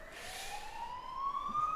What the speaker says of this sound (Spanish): vamos a esperar a que pase la ambulancia o policía.